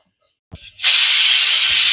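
After a brief clatter, a pressure cooker cooking sago bursts into a loud, sustained hiss of escaping steam that continues steadily to the end.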